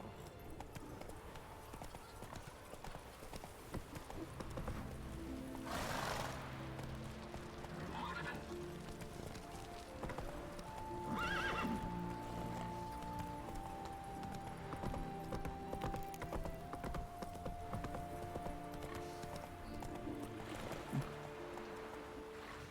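Roach the horse in The Witcher 3 trots and gallops with steady hoofbeats and a couple of whinnies, set against quiet game music and ambience.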